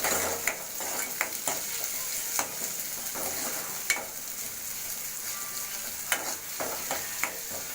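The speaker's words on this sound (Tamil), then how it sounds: "இப்போ இதில் வந்துட்டு வெங்காயம் சேர்த்துக்கலாம். வந்துட்டு தக்காளி சேர்த்து நல்லா வதக்கிடலாம்." Chopped onions and tomatoes sizzle steadily in hot oil in a pan for a spinach curry, with a spoon scraping and clicking against the metal every second or so, close and fairly quiet, without speech.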